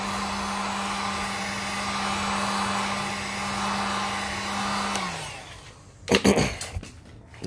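Heat gun blowing on vinyl camo wrap on a C5 Corvette: a steady, close whooshing hum that winds down after about five seconds, followed by a few loud handling knocks and rustles.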